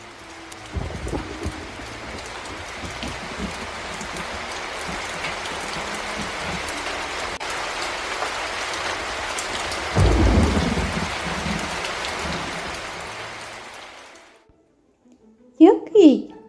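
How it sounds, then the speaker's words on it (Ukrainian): Steady summer rain falls on surfaces with a loud rumble of thunder midway, fading out before a brief voice near the end. "дощ влітку."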